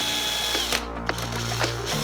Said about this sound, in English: You can take a drill and spin the back of this thing to test out the speedo